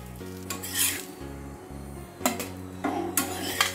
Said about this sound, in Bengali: আবার এইভাবে অল্প করে তেল দিয়েও ভেজে নেওয়া যাবে